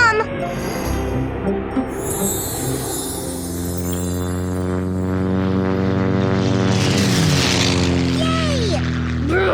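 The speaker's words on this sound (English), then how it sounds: "Flight 813, you are cleared to land on runway 5, over." A cartoon propeller airplane comes in to land on a runway, its engine drone holding steady and rising in pitch and loudness as it nears, with playful whooshing effects and a brief high cat-like squeal.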